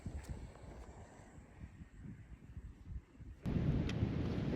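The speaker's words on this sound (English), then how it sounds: "You can hear the thunder." Distant thunder rumbles under steady rain, swelling into a louder, heavier roll near the end.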